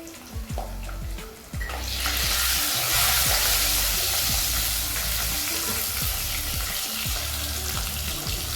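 Garlic and dried red chillies fry in a pan with hot oil, giving a loud, steady, close sizzle that swells after a few stirring knocks and continues without talk.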